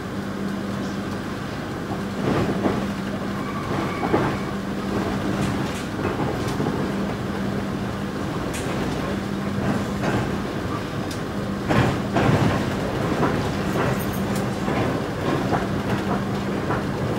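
An Indonesian Mutiara Selatan executive-class passenger train rumbles steadily along the rails with a low drone, occasional clicks and clanks breaking through, heard from inside at moderate volume.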